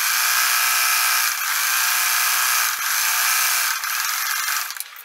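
A sewing machine runs continuously while stitching a zigzag along a fabric edge, giving a loud steady motor whir with slight dips in pace before it slows near the end.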